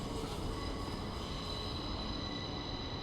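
A train pulls out of a station in the video game The Charnel House Trilogy, with a steady low rumble and a faint sustained metallic whine holding evenly throughout, no voices.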